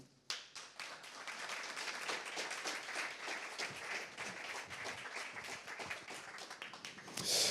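Audience applause for a guest at a railway-industry conference on training and skills, a dense, steady round of clapping that starts abruptly and holds at even strength to the end, with no talk over it.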